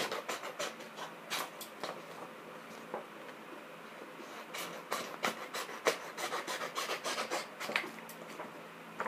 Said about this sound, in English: I'm going to use the scissors to cut the shape out.